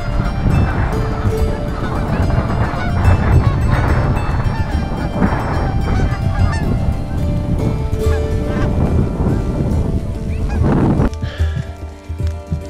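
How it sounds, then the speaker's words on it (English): Canada geese honk repeatedly overhead in the Newfoundland wilderness against a steady rushing background, the calls loud and irregular, with no one speaking. "Got some Canadian geese overhead here."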